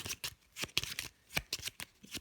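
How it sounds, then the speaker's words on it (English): A deck of cards is shuffled for the board game Mint Knight, making a rapid series of close, crisp riffling and snapping bursts. "So end of round, you shuffle up your deck."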